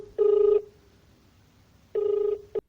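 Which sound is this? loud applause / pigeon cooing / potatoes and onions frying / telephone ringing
telephone ringing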